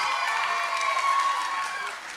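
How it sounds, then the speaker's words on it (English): An auditorium audience applauding student performers, a brief dense burst of clapping with faint cheering that eases slightly at the end. "these students here deserves another round of applause"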